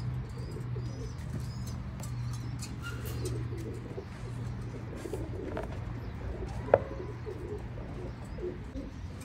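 Male pigeons of the Salara bloodline coo in a low, steady murmur throughout, with a single sharp click partway through.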